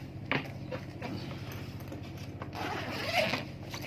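A shipped package holding a laptop being opened, with a zipper-like tearing and rustling of packaging and several sharper scrapes, close and fairly quiet throughout.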